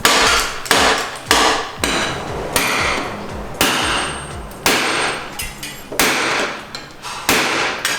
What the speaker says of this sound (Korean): 망치로 어, 텐션을 조금 풀어주는 거죠.